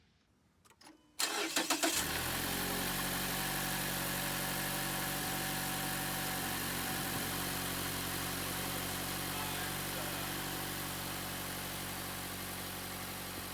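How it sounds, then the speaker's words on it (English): A 2013-2017 Mazda CX-5 engine cranks briefly after a spark plug replacement and catches, then settles into a steady, loud idle that runs on without interruption. "Start up the engine and make sure that everything is running."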